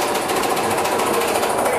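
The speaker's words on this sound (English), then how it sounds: "What are they drilling over there?" Street work drilling near a busy city intersection, a steady, loud, grinding rattle that runs without a break and sits close, with no pauses or talk standing out.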